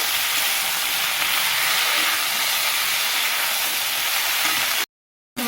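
Boiled vegetables frying with fried onion in a pan for a Bengali fish curry, a steady loud sizzle that runs unbroken before cutting out abruptly near the end.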